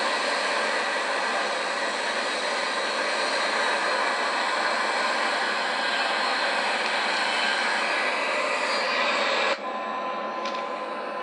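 In the X-Plane flight simulator, the jet engines of an El Al Boeing 737-800 roar steadily during the takeoff roll as a broad, constant hiss-laden rush that drops off sharply near the end.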